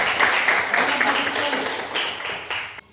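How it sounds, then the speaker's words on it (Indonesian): A classroom of students claps together in a lesson, a dense burst of hand claps rising and tapering over a few seconds with a faint voice beneath. "Tepuk tangan"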